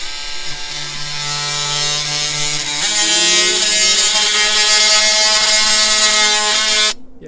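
A DEWALT 20V MAX XR cordless 3-speed oscillating multi-tool (DCS356) makes a plunge cut, its high buzzing whine rising in pitch as the blade bites in, running loud and steady for about seven seconds before stopping abruptly.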